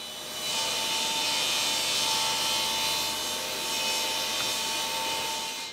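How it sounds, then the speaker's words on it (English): A table saw rips a 32-inch strip of half-inch plywood, the blade whining steadily under a loud, continuous, rough cutting noise with no voices. "I'm cutting a strip here that's 32 inches long and"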